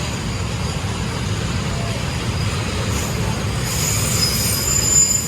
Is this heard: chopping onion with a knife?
no